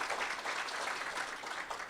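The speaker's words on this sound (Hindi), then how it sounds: "जोरदार तालियां रूपाली जी के लिए।" Audience clapping for Rupali at a stage event, a steady wash of applause from a gathered crowd held at an even level for the whole short stretch.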